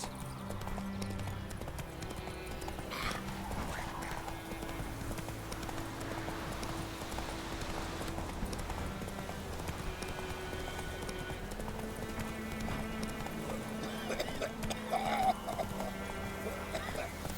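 Hooves of the horse Roach clip-clopping at a steady gallop in The Witcher 3, a continuous rhythmic beat under game music and ambience, with a brief snort or whinny near the end.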